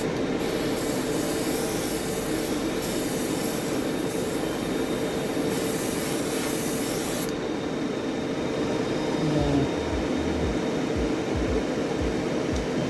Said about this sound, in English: I'm just blowing some air across it just to help air dry the paint.